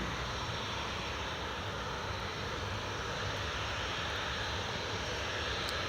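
A Logan Air airliner inbound from Aberdeen to Newcastle International Airport, heard as a steady, broad engine roar that holds at an even level throughout, with no talk over it.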